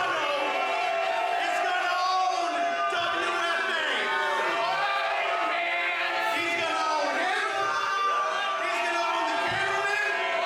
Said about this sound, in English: The crowd not letting him get in a word.